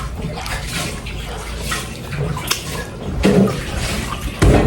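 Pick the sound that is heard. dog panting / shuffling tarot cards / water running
water running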